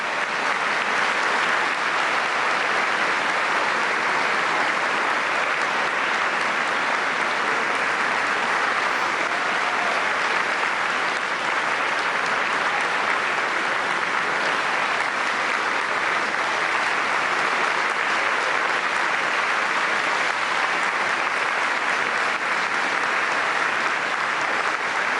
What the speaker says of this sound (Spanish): Acaba de entrar el Papa Francisco en el aula Pablo VI, recibido por los aplausos de los fieles